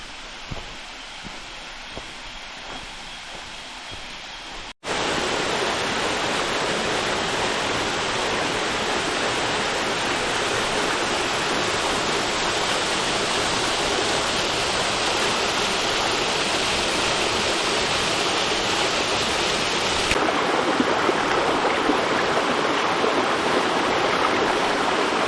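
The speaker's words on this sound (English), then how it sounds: "I think I can hear Irene Falls." Irene Falls waterfall in Brownsberg Nature Reserve, Suriname, gives a steady broadband rushing roar that rises abruptly after a quieter start and holds continuously, with no talking.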